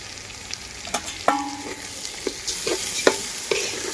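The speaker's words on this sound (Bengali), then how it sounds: "এই পর্যায়ে সামান্য একটু হলুদ আর লবণ দিয়ে হচ্ছে ভেজে নিব" Soaked rice frying with turmeric and salt for beef bhuna khichuri, stirred in the pan with a steady sizzle and repeated scraping knocks of the spoon, close and clear, no talk.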